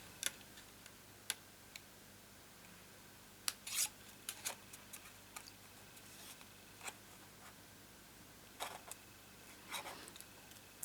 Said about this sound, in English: Let me see if I need to just give a little snip here.